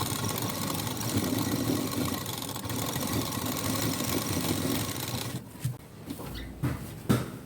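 A sewing machine stitching blouse fabric, a steady mechanical whirr running for about five seconds, then stopping, followed by a few handling clicks and taps.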